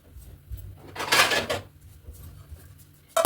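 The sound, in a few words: lid closed on a cooking pot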